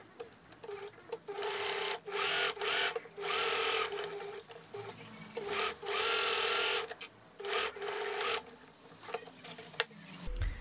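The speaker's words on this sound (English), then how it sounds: "Now I'm going to be coming here and sewing the layers together in the seam allowance" A sewing machine runs through layers of handbag fabric in short bursts, stopping and starting repeatedly with brief pauses and small clicks between runs, close and clear without speech.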